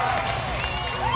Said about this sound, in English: Let's get loud for her. She can hear the big cheer up the wall